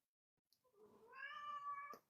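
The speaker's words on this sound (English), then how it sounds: "hey there, kitty kitty. I got a cat here, folks." A cat gives a single drawn-out meow close by, rising and holding before it cuts off, in an otherwise quiet room.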